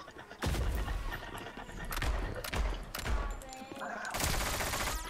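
Heavy shotgun blasts in the video game Kiraverse, four or five loud booming shots spaced about a second apart over a busy battle background, with faint voices in the mix.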